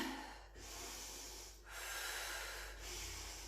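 Slow, deep breaths in a wide yogi squat (Malasana) during a yogalates class, soft and close, with two long audible inhale-exhale cycles over faint background hiss.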